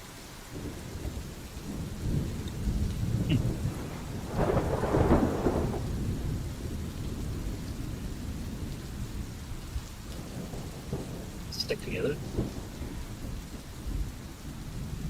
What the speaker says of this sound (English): The river is currently swelling from the rain and is striking the stone and bridge.